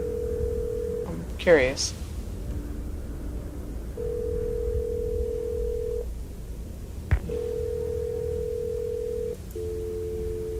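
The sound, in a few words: telephone dial tone calling the operator, video game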